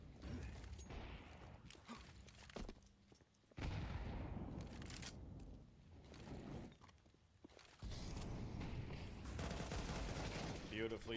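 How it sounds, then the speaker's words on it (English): An incendiary grenade burns with a rough, sustained crackle in a Counter-Strike match, heard amid bursts of gunfire, mechanical clicks and footsteps, with a caster talking over the action. "You listen and have that incendiary sound"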